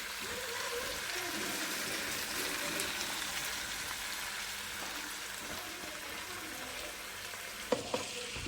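Shallots frying with salt in a pan for kappa biriyani, a steady moderate sizzle with light stirring, close and continuous, closing with a few clinks of a utensil.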